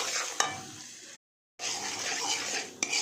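A spice paste of asafoetida, cumin, chili, turmeric and salt sizzles in a pan while a spoon stirs it. The hissing frying runs steadily and close, with utensil scrapes and clinks, and breaks off briefly in a moment of complete silence.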